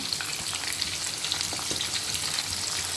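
Pointed gourd (potol) pieces fry in hot oil with turmeric, a steady close crackling sizzle with small pops throughout, no voices.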